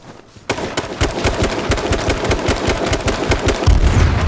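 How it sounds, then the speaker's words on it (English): Grenade explosions and gunfire in a video game come as a dense, loud burst after a brief quiet start. Rapid shots and heavy booms pile together in an uneven, crackling barrage, with a deeper blast toward the end. "Throw grenades, throw grenades,"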